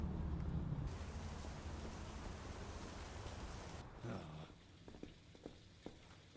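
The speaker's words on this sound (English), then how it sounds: "And it's raining again." Rain falling in New York in the video game Big Ambitions, a steady dense hiss that fills the scene, then thins out near the end as scattered soft knocks and taps come through.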